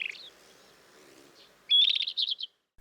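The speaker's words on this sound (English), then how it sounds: "this rufous-tailed scrub robin, which showed itself almost as soon as we arrived at Vanne-Romeni Beach" A rufous-tailed scrub robin calling near a beach on Lesbos: one brief chirp, then a clear, loud series of about seven quick whistled notes, with no other sound.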